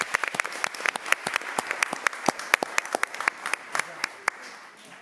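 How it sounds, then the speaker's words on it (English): A crowd at a city council meeting applauds steadily, dense sharp claps throughout, with a voice briefly audible over the clapping. "Everyone, please round of applause for Gabrielle Colette."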